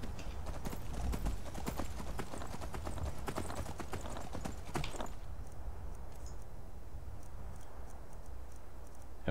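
Horse hooves gallop in Skyrim, a quick steady run of clip-clop beats for about five seconds before stopping, leaving faint ambient hum and a few light ticks.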